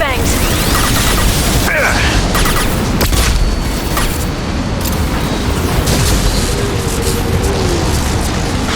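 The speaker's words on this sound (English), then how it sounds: "Watch out, flashbangs!" Flashbang grenades bursting during a Mass Effect 2 firefight, loud dense blasts and crackling chaos filling the scene, with voices shouting over the noise.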